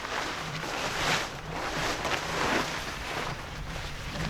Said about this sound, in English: it's gonna be windy out a little bit